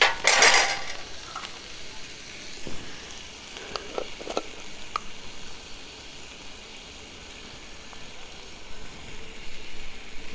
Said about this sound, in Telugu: టమాటా వేసుకొని మంచిగా కలుపుకొని కొంచెం పసుపు వేసుకుందాం.